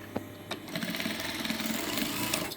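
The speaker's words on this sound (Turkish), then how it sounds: "Bunları düz kısmından diktim." Sewing machine stitching fabric for a bow, a rapid steady mechanical whir running close and continuously with a couple of brief clicks at the start.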